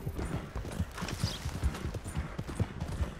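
Horse hooves clip-clop in steady, close rhythmic steps while riding in the Red Dead Redemption 2 video game, with a faint birdlike chirp high above.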